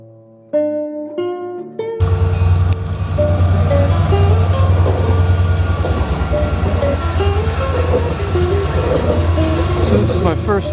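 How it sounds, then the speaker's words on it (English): After a short run of tonal crossing bells, a train rushes through a Spanish railroad crossing close by with a sudden loud roar, rattling wheels and faint squeals, continuing steadily to the end. "Yeah, a train's passing by."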